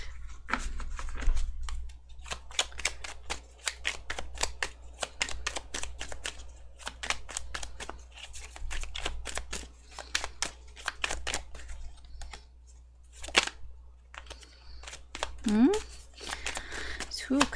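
Soft, rapid riffling and tapping of tarot cards being shuffled in bursts, close by and fairly quiet, with brief pauses and a faint voice near the end.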